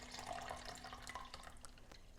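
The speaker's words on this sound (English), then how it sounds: "it's time to pour out the Blix and then rinse the film" Blix colour film developing chemical is poured out into a measuring cup, giving a soft, close trickle and splash with small drips and a faint steady hum behind it.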